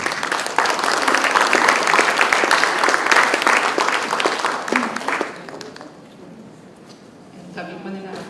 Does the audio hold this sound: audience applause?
yes